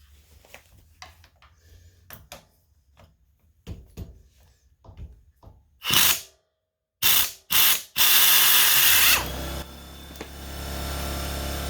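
A ratchet works loose the bracket bolts on a Kubota BX1500 compact tractor, with scattered clicks and rattles early on, followed by several loud, abrupt mechanical bursts and a sustained harsh noise near the end.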